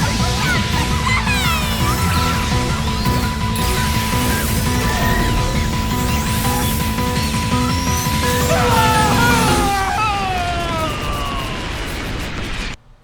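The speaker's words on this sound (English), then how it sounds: "Flashbang." A flashbang goes off in the video game Rain Code, a loud sustained burst of noise lasting many seconds, with a ringing tone and scattered chirps layered through it before it cuts off abruptly at the end.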